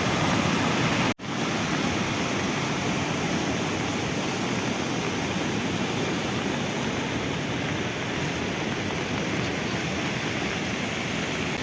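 A waterfall pours right beside a nomad family's tent in the mountains, a loud, steady wash of falling water that runs unbroken throughout, with one brief dropout near the start.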